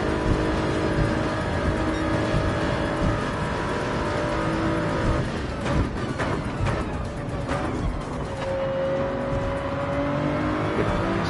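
An engine drones steadily in a Porsche race car in Gran Turismo 7, with a sustained tone that dips and shifts pitch through gear changes, loud and continuous throughout.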